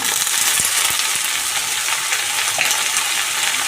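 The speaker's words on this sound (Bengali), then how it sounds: "তো এখানে পেঁয়াজ রসুন ভাজা ভাজা হয়ে এসছে, একটু রং ধরেছে।" Water lily stems frying with browned onion and garlic in a home kitchen pan, giving a steady, loud broadband sizzle with faint stirring ticks throughout, no voices.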